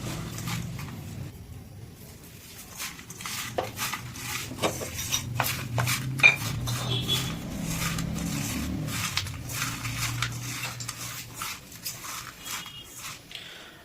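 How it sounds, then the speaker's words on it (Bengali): Cleaned prawns being mixed by hand with salt and turmeric in a bowl: quiet, soft squelching and light scraping against the bowl, continuous and fairly faint, with no talking. "এবারেতে মাখিয়ে নেব নুন আর হলুদ।"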